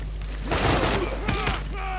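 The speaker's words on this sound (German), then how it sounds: "zuerst schießen wir da mal drauf" Gunfire from units in Civilization VI, a loud close burst of rattling shots over a steady low hum and game music, with a voice talking over it.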